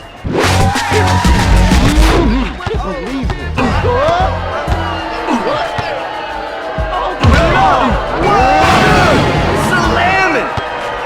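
Slam dunk in the NBA Ballers Phenom basketball video game, with sharp slams, ball bounces and squeaks over a crowd that roars and cheers in bursts, while game voices talk throughout.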